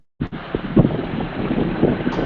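Rough, blustery roar of a scooter ride coming through a call microphone, a constant loud rush of wind buffeting with small bumps and thuds, starting abruptly after a brief silence and continuing unbroken.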